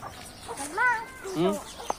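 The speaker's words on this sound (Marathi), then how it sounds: "हे पिल्ले घेऊन चालली कोंबडी तिकडे" A hen walking with her chicks gives a few soft, rising and falling clucks at close range, with a faint sharp peep near the end.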